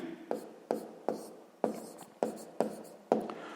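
Pen or pencil writing numbers on paper for a sixth-grade math exercise, a run of short scratchy strokes each starting with a tap, evenly spaced about every half second, close and quiet.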